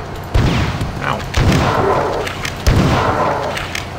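Shotgun blasts in the first-person shooter Marathon 2: Durandal, three heavy booming shots spaced about a second apart, loud and close, each trailing into a rumbling decay with game sounds around them.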